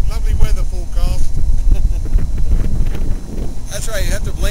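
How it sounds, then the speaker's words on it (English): Loud, roaring wind buffeting the microphone throughout while sailing on Lake Minnetonka, rumbling and gusting, with a voice faintly breaking through near the end. "the wind is so fierce on the whole speaker of the microphone"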